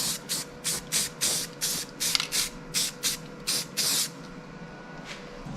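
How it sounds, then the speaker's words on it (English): An aerosol can sprays paint onto an exhaust part in about ten short hissing bursts, close and steady in rhythm. The last burst is the longest, and a quiet pause follows. "Just a little spray paint on it,"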